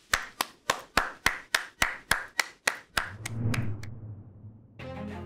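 Graduates at a college commencement clap in a steady series of about ten sharp, evenly spaced claps. The claps are close and crisp, then give way to a soft hum.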